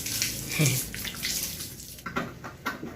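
Water splashes and runs over an iron staircase as it is washed, a close rushing wash that ebbs and surges with a few clattering knocks near the end.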